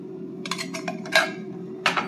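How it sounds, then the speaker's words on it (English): A spoon presses crushed pineapple against a metal mesh strainer, giving a handful of light scraping clinks and taps at an uneven pace, close by and fairly quiet, with no voices. "we're just gonna take a spoon and get all the juice out of it"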